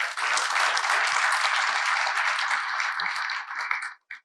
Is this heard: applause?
yes